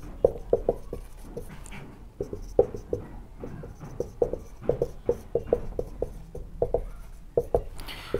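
A teacher writing on a board during a Hindi lesson: a steady series of short, crisp taps and strokes, close up and fairly quiet, with no talking.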